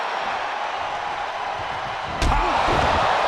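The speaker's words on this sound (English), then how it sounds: "Just deadlifted up into a powerbomb." In the wrestling game World of Wrestling: Night of Steel, a powerbomb lands as one sharp, heavy slam partway through, over a constant roar of arena crowd noise.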